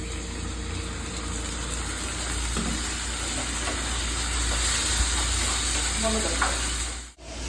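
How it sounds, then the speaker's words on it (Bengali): Ginger and garlic frying in a pan while being stirred, a steady hiss and sizzle with scattered scraping clicks throughout, fairly close, with faint background noise and no clear talk. "এই যে আদা রসুন দিয়েছি একটুখানি নাড়ছি"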